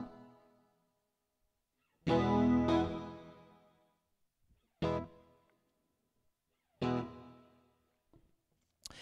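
Three separate strummed guitar chords ring out with a shimmering, wavering effect and a lingering reverberant tail that fades into silence between them.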